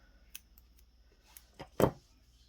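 Dull scissors snip off a crochet yarn tail: a few faint handling clicks, then one close, crisp cut near the end, with quiet surroundings otherwise.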